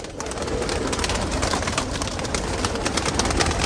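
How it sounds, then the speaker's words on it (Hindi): Rampuri pigeons cooing in a loft, a steady dense chorus of soft coos and rustling close by with continuous background noise, no talking. "ये देखो बहुत अच्छे कबूतर है माशाल्लाह इनके यहाँ।"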